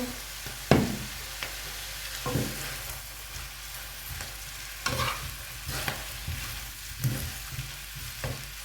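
Glass noodles with egg and soy sauce being stir-fried, with a soft constant sizzle under repeated scraping and tossing strokes at an uneven rhythm, close by.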